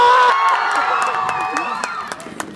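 Crowd cheering and shouting at a Nepali comedy show, a dense mass of voices whooping and yelling with scattered claps and sharp shouts, loud at first and then tapering into separate outbursts.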